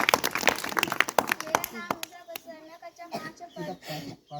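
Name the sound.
audience applauding a Class 5 schoolgirl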